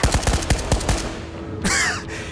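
Rapid bursts of automatic gunfire in the shooter game Ghosts of Tabor, fired at a metal grate, with a quick string of close, loud shots followed by a brief metallic burst.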